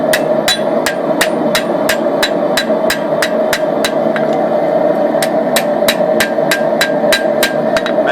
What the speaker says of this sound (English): We just tap it with the hammer again to neaten it up.